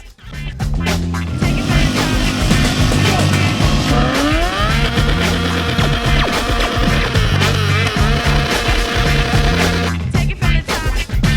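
A motorcycle engine runs close by at a 1 Billion Rising 2024 event, a loud sustained rumble that revs upward partway through and then holds steady before easing off.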